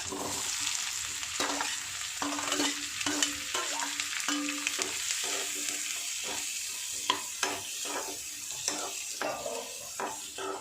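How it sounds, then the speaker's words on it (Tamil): Chopped onions sizzle and fry in butter in a pan for creamy butter paneer gravy, with steady crackling and repeated scraping strokes of a spoon stirring them, close and continuous. "ஸோ நான் இப்போ இந்த ஆனியன் இதில் போட்டுக்கிறேன்."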